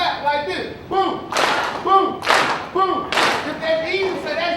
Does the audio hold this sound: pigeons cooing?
no